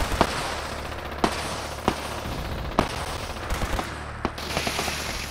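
Gunfire in the online game Fallout 76 during player-versus-player combat, with sharp isolated shots spaced a second or so apart over steady background noise, followed by a cluster of quicker cracks.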